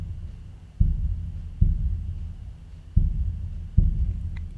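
Four deep, booming drum hits land about a second apart, each one trailing into a delayed, spreading reverb tail that fills the space between strikes.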